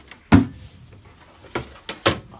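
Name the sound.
toolbox drawer sliding open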